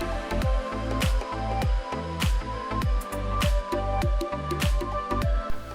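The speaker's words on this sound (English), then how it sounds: "put the lid on and let it boil in its steam for 30 minutes" Pork simmering in its own steam under a lidded pan, chilli pork cooking: a steady, close bubbling sizzle with repeated soft squelching pops in an irregular rhythm, no talk.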